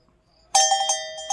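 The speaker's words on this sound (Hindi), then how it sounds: "एक घंटी लगाई हुई है लोगों ने कि भगाने के लिए" A metallic bell hung in a mango tree to scare away birds clangs a few times in quick succession, ringing with bright overtones before a final lighter strike; no voices, close by in quiet surroundings.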